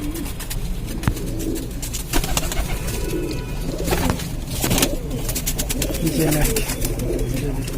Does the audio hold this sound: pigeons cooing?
yes